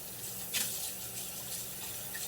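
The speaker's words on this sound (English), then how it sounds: "And you know I always rinse out everything, even though it's clean." Water runs from a kitchen tap as a clear bowl is rinsed before making deviled eggs, a steady soft splashing hiss with a brief louder gush, fairly quiet and with no talk.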